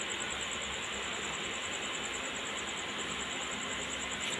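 Inside a moving passenger train near Harmoti, a steady, even rumble of wheels and carriage noise fills the space, with a thin high whine running continuously above it.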